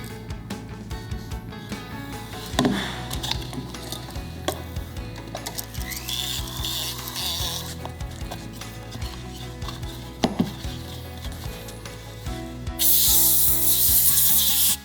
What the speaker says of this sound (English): I'm just gonna use my rotary tool to clean it up